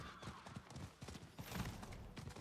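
Faint, quick clip-clop of horse hooves in Diablo 4 trots along rhythmically, soft and distant, with a light game-like ambience behind it.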